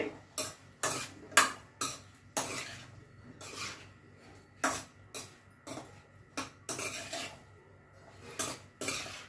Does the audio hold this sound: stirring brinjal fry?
yes